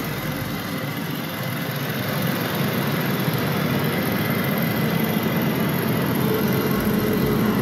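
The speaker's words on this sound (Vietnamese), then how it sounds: "Máy xăng này rất là êm ạ." A 2009 Toyota Fortuner V with a 2.7-litre petrol engine, automatic and four-wheel drive, idles smoothly at close range, a steady unbroken engine hum and broadband whir with no other sounds.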